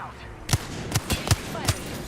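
Gunfire in a video game: five distinct shots fired at a steady, moderately quick pace, each a sharp crack with a short tail, close and clear.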